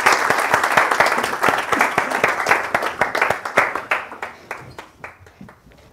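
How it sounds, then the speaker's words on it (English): Audience applause for two guests at a talk on improvisation and mental health: dense, loud clapping from a crowd that holds steady, then thins to scattered claps and fades out over about six seconds. "a big round of applause for our two esteemed guests"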